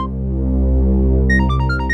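A mobile phone ringtone chirps in a short melodic pattern near the end of a TV crime drama scene, over a steady low hum, with brief repeating tones.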